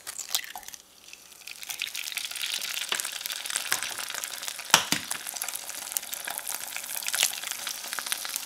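Two eggs frying in a pan alongside crispy bacon, a steady close crackle and sizzle with scattered sharp pops throughout, no talking.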